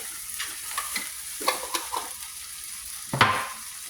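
Curry paste being stirred into vegan crumble keema in a pan: a soft sizzle underneath sharp spoon scrapes and clicks at an uneven pace, with a louder scrape near the end.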